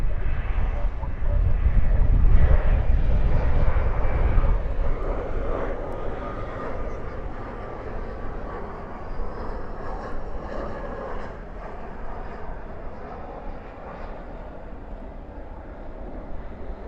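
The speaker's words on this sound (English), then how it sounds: "Spoilers up, reversers out. This one looks like an E170." An Embraer E170 jet landing at night at DFW airport with spoilers up and thrust reversers deployed, a broad engine roar that swells early and then eases into a steady distant rumble over wind noise.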